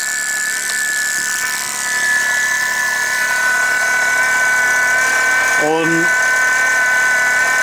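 A Gerard Morin replication motor with a neodymium magnet running: a steady high-pitched electrical whine with a constant buzzing hum, close and continuous, while someone talks briefly.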